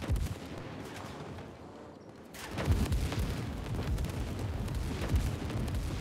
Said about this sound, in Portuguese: Vou jogar uma granada